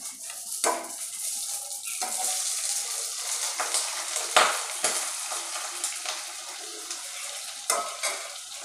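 Whole spices crackle and sizzle in hot oil: dried red chilli, cloves, black peppercorns, cumin and mustard seeds. The frying is close and steady, with sharp pops and spoon scrapes against the pan scattered throughout.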